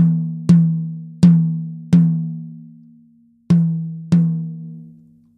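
A Pearl Export tom drum, its cushioning removed, struck five times, each whack loud and close with a long ringing tone that fades, the hits unevenly spaced with a pause before the last two.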